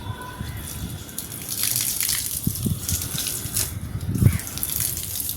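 Water poured from a container outdoors for watering heat-stressed garden plants, a steady low splashing gush with a louder burst near the end, alone without talk.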